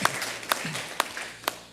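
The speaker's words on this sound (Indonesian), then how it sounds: "Tepuk tangan buat Tuhan Allah kita." A church congregation clapping together in a steady rhythm of roughly two claps per second, soft and diffuse in a reverberant room.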